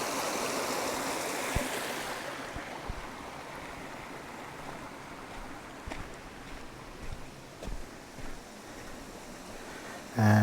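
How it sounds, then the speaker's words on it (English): A mountain stream swollen with rain runoff on the Serra da Gardunha in Portugal in winter, a steady faint rush of flowing water with a few soft knocks and bumps nearby. "lots of water coming off the mountain from all the rains that we've had recently."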